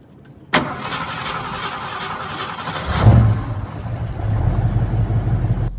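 A 1970 Ford Mustang convertible's V8 cranks and catches with a sudden loud start, settles into a steady rumbling idle, surges briefly with a blip of revs, then grumbles deeper and heavier near the end.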